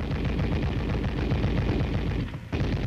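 An M73 tank machine gun fires a sustained, dense burst of rapid shots, loud and close, cutting briefly near the end before resuming.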